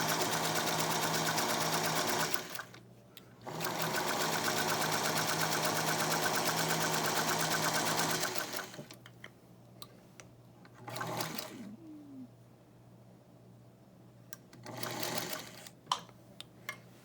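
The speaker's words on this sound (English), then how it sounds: "And you just sew along the line." A sewing machine stitching along the line of a fabric bowl cozy, running in a long steady buzzing burst, pausing briefly, running again, then giving two short bursts separated by quiet handling noises.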